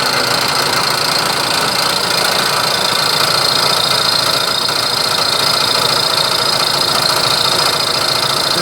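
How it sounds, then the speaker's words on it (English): A milling machine conventional-milling a slot in a carriage stop body, giving a steady, loud broadband machining drone with a constant mechanical whine and vibration throughout, no talk. "That's why I'm conventional milling."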